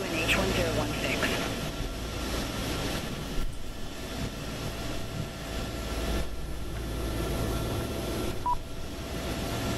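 Quiet cabin hum of Boeing 777-200ER Rolls-Royce Trent engines in Microsoft Flight Simulator 2024, a steady low drone with faint tonal whine and a brief beep, under occasional talk.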